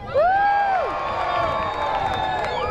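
A crowd at a balloon festival cannon show cheers and whoops loudly and continuously, with a sustained roar of voices and a rising shout near the start, filling the outdoor space.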